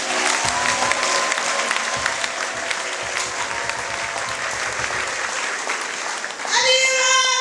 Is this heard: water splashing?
no